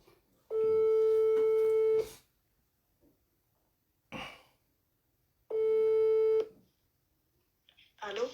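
A telephone tone sounds while someone calls a person back, two long steady beeps separated by a pause, with quiet throat noises and breathing between them.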